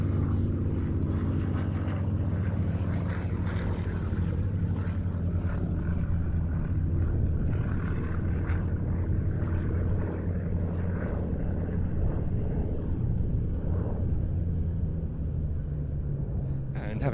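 A display aircraft at the Duxford air show passes close by with a continuous low engine drone and rumble that holds steady the whole time, as a commentator talks over it.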